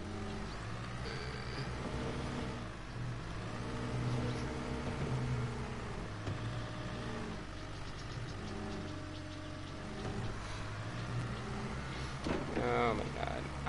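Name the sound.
excavator driven off a trailer in Construction Simulator video game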